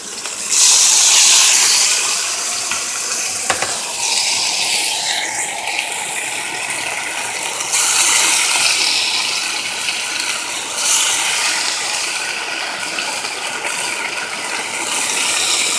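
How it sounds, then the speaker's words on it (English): Beef strips sizzle in hot oil in a pan, a loud, steady crackling hiss that flares as the meat drops in and then holds at a high level throughout, with faint scraping. "You're gonna put all your beef into your pan."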